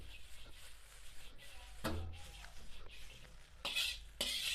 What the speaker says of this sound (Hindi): इसको अब मिक्स कर लें अच्छी तरह आप